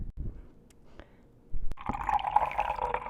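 Water is poured into a bowl for bread dough: a few quiet knocks, then a steady splashing, trickling pour that runs to the end of the short span.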